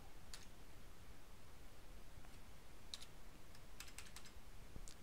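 Numbers are keyed into a spreadsheet on a computer keyboard: scattered, quiet clicks in short bursts, several quick taps clustered toward the end, close and alone over a soft room hiss.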